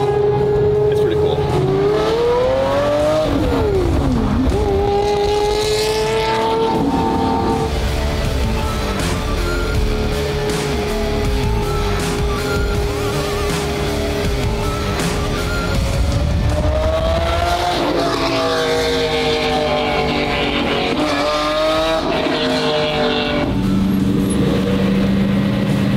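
A car engine in a video game revs and shifts repeatedly, pitch climbing and dropping through gears, loud and close, with people talking over it.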